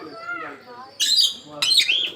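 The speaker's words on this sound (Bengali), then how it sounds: "টিয়া পাখি" Parrots at a zoo let out two sharp, shrill squawks in quick succession, heard close, after a person speaks briefly at the start.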